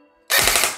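A short, loud full-auto burst from an ARES Amoeba AM-016 airsoft gun, a dense rapid rattle of shots starting abruptly after a brief quiet moment, close and with no voices.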